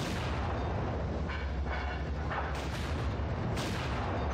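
Tank gunfire in the WW2 Online combat game, heavy booming shots rolling over a dense, constant rumble of engine and battle noise, with a few louder blasts standing out near the end.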